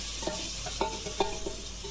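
Shrimp sizzling in hot oil with panch phoron, stirred with a spatula, giving steady close frying hiss broken by several distinct scraping strokes.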